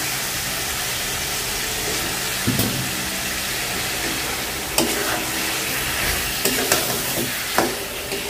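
Shing fish sizzling and frying in spice paste in a pan, with a steady hiss broken by occasional stirring scrapes and clatters, no talking.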